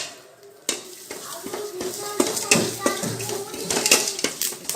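Curry leaves and grated coconut roast in a pan on the stove for chicken curry, with a spoon scraping and clinking against the metal in irregular strokes over a soft sizzle, while a voice talks now and then.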